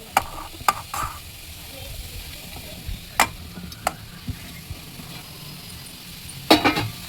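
Cabbage, onion and capsicum stir-frying in a pan, with scattered sharp spatula clicks and scrapes over a faint, low sizzle.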